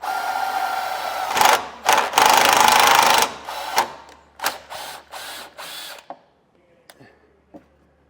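A power drill drives a self-tapping screw into the frame rail of a 2019 GMC truck: one long loud whirring burst, then shorter stop-start spins and clicky ratcheting taps that fade into near silence.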